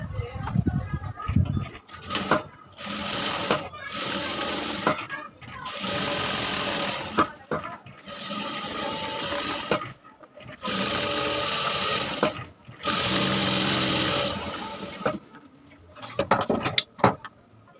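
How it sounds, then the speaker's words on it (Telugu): Sewing machine stitching a prince-cut blouse, in repeated bursts of rapid mechanical whirring separated by short pauses, close and loud, with brief handling noises between runs. "ఇలా అనేది స్టిచ్చింగ్ అనేది చేసేసుకోవాలి"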